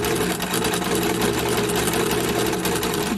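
A sewing machine runs continuously at steady speed, stitching rows of gathering stitches on fabric with a fast, even mechanical whir and rapid needle clatter, close and alone without speech.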